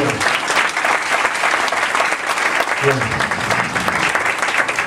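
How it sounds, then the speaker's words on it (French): A church congregation bursts into loud, sustained applause and acclaim at a tenth-anniversary service, the clapping dense and steady throughout with voices mixed into it. "Si vous êtes contents, mesdames, nous allons acclamer le Seigneur"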